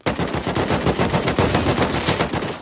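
Rapid automatic gunfire in the survival game Rust, a dense close burst of evenly spaced shots running through the whole stretch with no pause and no talk.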